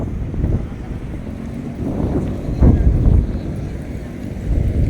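Wind gusting along a coastal road under construction in Davao City, a steady broad rush with stronger buffets partway through, close to the microphone and without talk.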